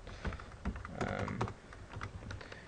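Keys clatter steadily on a computer keyboard as code is typed, a quick close run of soft taps with no voice over them.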